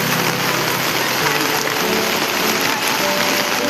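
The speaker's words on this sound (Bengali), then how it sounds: "মারাত্মক বৃষ্টি হচ্ছে, raining like cats and dogs." Heavy rain pours down at night on a flooded street, a dense, loud and unbroken roar of drops hitting surfaces, steady throughout with no pauses.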